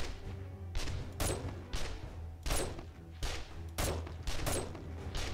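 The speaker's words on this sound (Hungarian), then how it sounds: "fejre lövök neki" Gunfire in 7 Days To Die rings out as a series of loud, sharp shots spaced about half a second to a second apart, each with a brief ringing tail and no talk.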